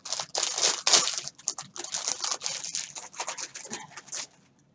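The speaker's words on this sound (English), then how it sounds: "I'm going to apologize in advance for the crinkling" Plastic bags holding yarn crinkle loudly as they are opened, a close, continuous run of crackly rustling bursts for about four seconds before falling quiet.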